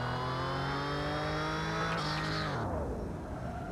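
Turbocharged Volkswagen Santana engine revving up loud and close, a harmonic rising, holding, then dropping away as the revs fall, with no talk.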